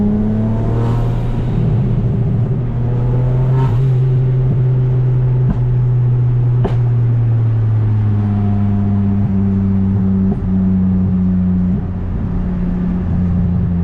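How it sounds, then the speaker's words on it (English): A Hyundai car with an added-horsepower setup and new throttle body revs its engine, with a steady loud drone and rising, falling turbo whine and spool tones, plus a few sharp clicks. No voices. "I hope you guys can hear that spool."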